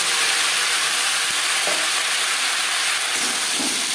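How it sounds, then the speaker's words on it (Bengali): Taro pieces dropped into hot oil with whole cumin and dried red chilli, giving a steady close sizzle and hiss with a few soft stirring knocks, no voices. "পনেরো 20 সেকেন্ড জিরে শুকনো লঙ্কা ভেজে নেওয়ার পর দিয়ে দেবো কচু"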